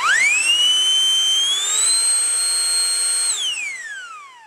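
A YANTU AM25 portable air pump runs with a loud, high-pitched whine that climbs as it starts, holds steady, steps up in pitch when switched to high, then winds down as it shuts off.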